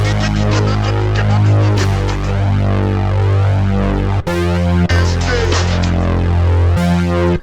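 Deep chorused bass line ducked by a kick sidechain, layered with a sampled loop in a hip-hop sampling beat; thick, throbbing low tones pulse steadily with brief dropouts, loud and alone without any voices.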